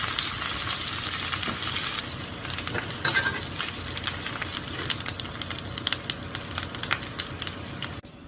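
Steaks fry in kimchi butter in a hot pan, giving a steady close sizzle with crackling spits and occasional scrapes as they are turned, ending abruptly.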